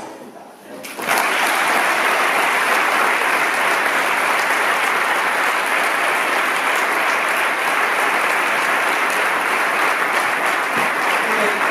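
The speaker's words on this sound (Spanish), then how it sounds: "un aplauso." Sustained audience applause fills the room after a brief quiet start, steady and dense clapping throughout at close range.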